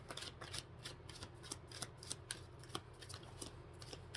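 Tarot cards being shuffled by hand, a steady run of crisp papery riffles and soft flicks that repeats in quick bursts at close range, with no one talking.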